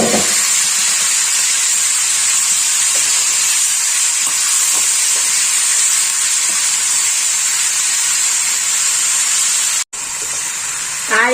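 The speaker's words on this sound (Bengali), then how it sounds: "রসুনটা ভাজা হয়ে গেছে। এবার আমি এইটা জাস্ট এর মধ্যে ঢেলে দেবো।" Fried garlic in about a teaspoon of oil poured into a dish for hand-mixed Bengali chochhori, giving a steady, close hiss of sizzling that holds for about ten seconds, breaks off briefly, then resumes.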